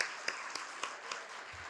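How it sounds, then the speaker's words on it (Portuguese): Audience applause at a state prosecutors' congress, a soft continuous patter of clapping with a few louder individual claps standing out at regular intervals, fading toward the end. "Merece palmas."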